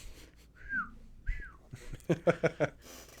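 Two short, thin whistling tones rise and fall with breaths through the nose, followed by a few quiet, rhythmic voiced sounds.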